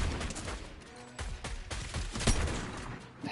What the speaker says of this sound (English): Dude, stop shooting at me.